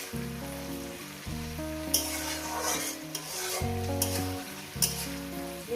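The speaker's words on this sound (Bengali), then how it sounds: "পেঁয়াজটাকে আরও আমি তিন মিনিট ভেজে নেবো" Onions fry in a pan for a long-bean and poppy-seed (posto) dish, giving a soft sizzle with occasional stirring scrapes. Background music plays throughout, louder than the frying.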